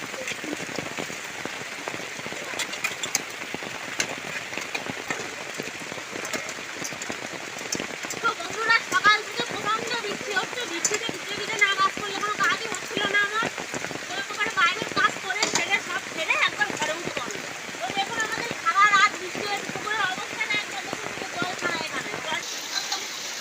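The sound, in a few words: heavy rain falling in village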